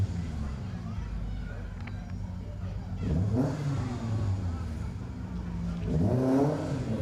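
Car 64, a rally car in old Ford colours, drives through an asphalt stage of Rally Ceredigion. Its engine rises twice as it accelerates and revs, moderately close, under a faint steady background.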